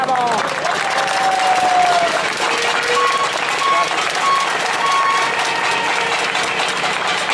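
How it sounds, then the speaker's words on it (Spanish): Sustained applause from an audience at a Mexican union assembly for a lawyer about to speak, dense and loud throughout with a crowd murmur and faint tonal whistles or feedback near the start. "pido un fuerte aplauso, por favor"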